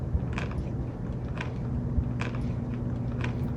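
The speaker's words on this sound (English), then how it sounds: "I'm gonna be able to hear you chew on camera as you chew through the nuts." Crunchy nuts being chewed close by, a run of sharp crisp bites and crunches repeating over steady background noise, with no talking.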